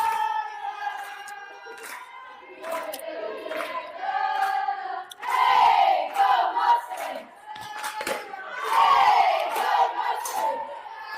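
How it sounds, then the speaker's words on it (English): Mustangs softball players chant and yell a loud, rhythmic team cheer from the dugout, voices rising in unison in bursts, with shouting growing stronger midway. "Mustangs are fired up. They got their cheer game right."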